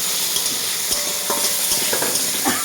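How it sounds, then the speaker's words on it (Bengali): Sour raw jujube chutney, seasoned with salt and turmeric, is stirred in a hot pan: a steady close sizzle with soft scraping taps of the spoon, no voices. "এটাও ভালোভাবে একটু নেড়ে নেব"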